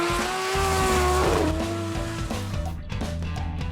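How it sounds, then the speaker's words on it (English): Drift cars sliding at Hampton Downs during D1NZ qualifying, including a V-Energy 250 GT Skyline, with sustained high engine tones and tire squeal over a steady, loud roar that carries through the whole stretch. "Cole Armstrong in the V-Energy 250 GT Skyline sliding his way into 4th place."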